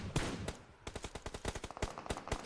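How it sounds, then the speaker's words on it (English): Gunfire in the battle royale game PUBG Mobile during a South Asia esports championship match: a single shot followed by rapid automatic bursts, sharp and fairly close, with no commentary over them. "we're hearing a lot of gunshots indeed around."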